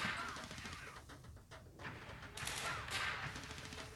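Gunfire in a video game, a faint fusillade of bursts rising and falling over about four seconds, with no talk.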